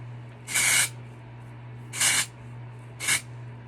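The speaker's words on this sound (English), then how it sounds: "We might just throw on some dry shampoo right quick." Dry shampoo sprayed onto hair from an aerosol can in three short hissing bursts, the last one briefest, close up over a steady low hum.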